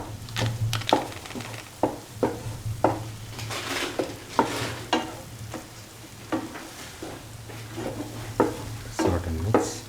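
A spoon stirs and scrapes through cottage cheese cashew stew sizzling in a pan, with sharp clinks and scrapes against the metal in a loose, repeated rhythm over a steady low sizzle, close up and without talk.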